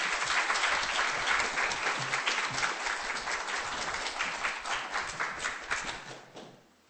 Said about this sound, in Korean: 우리 뜨거운 박수로 환영해 주시면 감사하겠습니다.